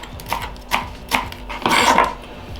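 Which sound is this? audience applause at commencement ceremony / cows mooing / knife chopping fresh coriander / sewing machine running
knife chopping fresh coriander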